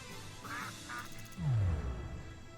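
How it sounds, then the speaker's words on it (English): Ducks in Shenmue 3 give two short quacks, then a louder, deeper drawn-out quack, close and clear against quiet game ambience. "Alright, ducks."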